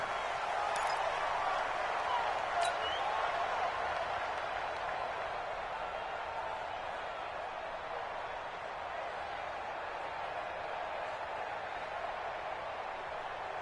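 Steady roar of a large stadium crowd at kickoff in a Madden football video game, broad and continuous throughout with a brief whistle-like accent early on.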